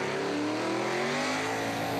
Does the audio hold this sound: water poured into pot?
no